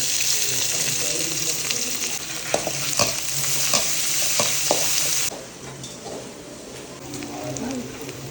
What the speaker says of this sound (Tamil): எண்ணெய் கொஞ்சம் வச்சுக்கணும். கடுகு போடணும், உளுந்து போடுறேன், கடலைப்பருப்பு போடணும், வெங்காயம் போடணும்.